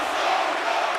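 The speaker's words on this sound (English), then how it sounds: "The crowd is frustrated, including the bench." Frustrated hockey arena crowd in the video game NHL 25, a dense, loud and steady roar of many voices filling a brief moment.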